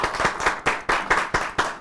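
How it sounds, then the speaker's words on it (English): An audience claps for a public official at a gathering, rhythmic and loud, with about seven strong, roughly evenly spaced beats of many hands clapping together in unison. "Let's clap."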